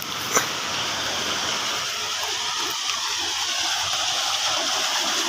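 Water gushing from the outlet of a newly installed Jain 7.5 HP solar pump, a steady rushing wash of water that holds evenly throughout, with a brief knock near the start.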